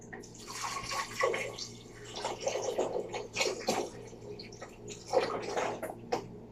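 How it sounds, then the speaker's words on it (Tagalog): Water splashes and trickles into a cooking pot for soup broth in uneven gushes, close by, with faint clinks of handling and no talking. "Ito yung isabaw natin mga kasambay, tubig niya, Wilkins."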